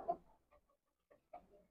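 Desi chickens, native free-range fowl, give a few soft, short clucks, faint and close, separated by brief pauses.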